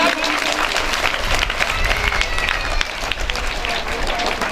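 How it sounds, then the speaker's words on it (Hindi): A crowd claps loudly in welcome at a retirement function, a continuous dense patter with some voices and shouts mixed in throughout. "तो एक बार जोरदार तालियों से स्वागत"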